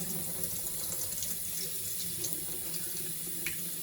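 Tap water runs steadily into a bowl of ackee being rinsed at a sink, a continuous moderate splashing stream with faint clinks and no talking.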